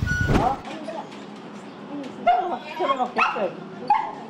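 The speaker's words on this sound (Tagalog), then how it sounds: "pinalikan naman ng pamilya Borses ang alaga nilang aso na naiwan sa bubong sa kasagsagan ng bagyo" A family's pet dog, left stranded on a rooftop during typhoon flooding, gives a few short barks and whimpers, with a burst near the start and softer yips later, heard amid a reporter's voice-over.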